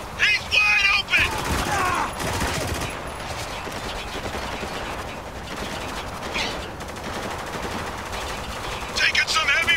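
Bursts of automatic gunfire and single shots in a Spec Ops: The Line military shooter firefight, with sharp rattling volleys and dense near battle noise, and a voice talking faintly under the shooting.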